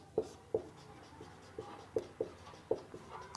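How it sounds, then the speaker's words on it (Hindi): A teacher writing a chemistry definition for a class 10 lesson, chalk or marker tapping and scratching in a steady series of short, close strokes, about eight distinct taps with brief pauses between them. "परिभाषा हम लोग इसकी लिख लेते हैं"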